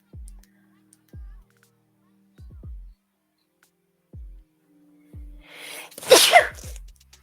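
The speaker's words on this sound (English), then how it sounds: "I always sneeze in even numbers." A single loud, sharp sneeze bursts out near the end, following a run of quiet, scattered knocks and soft sounds in a calm indoor craft setting.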